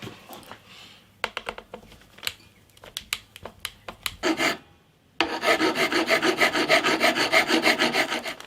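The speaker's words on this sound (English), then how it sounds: "so I'm going to sand a bit off it." Sanding a wooden spacer for a travel guitar build: scattered short rasping strokes at first, then a long run of steady, loud, evenly rhythmic back-and-forth scrubbing close by, with no talk.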